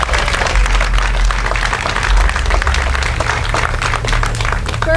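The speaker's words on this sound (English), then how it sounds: "Please give her a round of applause" Steady applause from an outdoor crowd at a solidarity demonstration in Waynesville, a continuous wash of clapping held at a constant level throughout.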